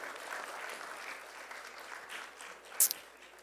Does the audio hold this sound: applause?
yes